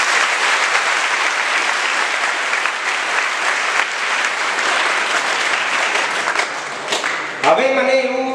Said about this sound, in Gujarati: એકવાર તાળીઓનો ગણગડાટ